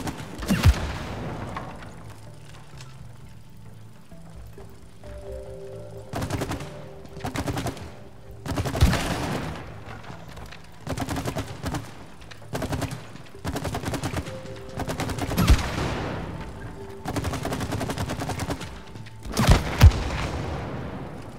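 Gunfire at a shooting range in the video game It Takes Two: bursts of loud shots and booms repeating in clusters across the stretch, with quieter gaps between volleys and no talk.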